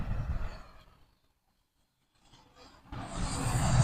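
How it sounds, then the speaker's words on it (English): Large trucks rumble past on a street in Toyosaka, Higashi Hiroshima, fading out to near silence and then returning as a loud, close, broadband roar that builds toward the end. "Some big trucks coming through."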